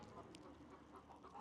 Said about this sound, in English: We got some clucking going on in the hen house.